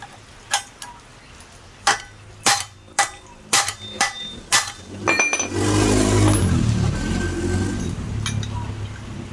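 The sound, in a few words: hammering a nail while replacing a Supra drum brake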